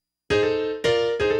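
Blues piano riff in F from a lesson: three struck chords, the first held about half a second, then two more close together, each ringing clearly with no talk.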